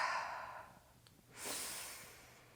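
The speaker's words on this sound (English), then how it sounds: "Feel your breath moving in, maybe through your nose, and you can exhale out your mouth." A slow breath drawn in through the nose and let out through the mouth, soft and close, a gentle airy inhale followed after a brief pause by a longer hissing exhale.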